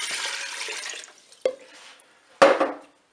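Broth poured into a Cookeo cooker bowl holding potatoes and mushrooms: a steady liquid splash for about a second, then two sharp clinks of a container against the bowl.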